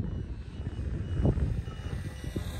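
Homebuilt FPV model airplane cruising while carrying a heavy 6-kilogram load, a faint, distant propeller drone that swells briefly and fades, heard on its own.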